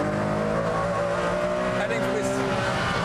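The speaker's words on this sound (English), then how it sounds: "And now the car leaps out of that corner." A Ferrari Enzo accelerates hard out of a corner, its engine a loud, sustained high-revving roar with strong harmonic whine and some tire noise, close and constant, with someone talking over it.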